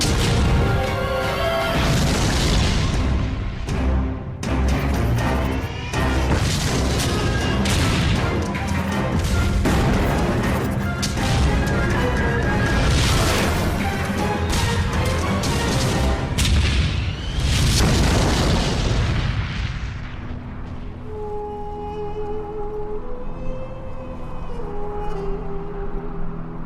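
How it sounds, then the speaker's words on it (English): Tank cannon fire and explosions roll through a desert tank battle, heavy booms and crashes piling up in dense succession, loud and continuous, before easing into a quieter tail with faint tones. "tank armies clash on a remote strip of desert"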